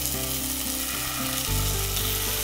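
Chicken pieces sizzle and fry in a pan, a steady close crackle filling the whole stretch, growing fuller and louder about halfway through.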